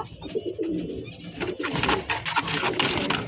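Pigeons coo at close range, a large pair kept for sale with the female settled down to sit on her eggs; soft repeated cooing blends with some background rustle and chatter.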